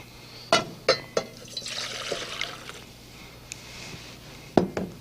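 Three cups of water are poured into a kettle, with a few sharp clinks of the cup against the rim and a soft splashing trickle in between, heard up close.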